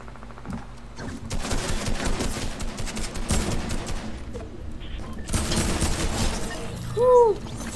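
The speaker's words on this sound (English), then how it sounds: "Shots fired." Rapid assault rifle bursts in a Fortnite match, loud and near, with several stuttering volleys across the clip and a brief sharp chirp near the end.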